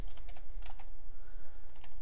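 Rapid computer keyboard typing, a steady patter of close, crisp key clicks in short bursts with no talking over it.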